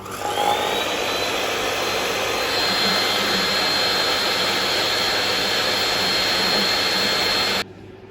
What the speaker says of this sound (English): I'm just going to use this hot air gun to heat up a bit more.